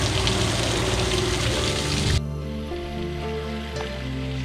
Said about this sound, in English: And a pretty little waterfall with a pond.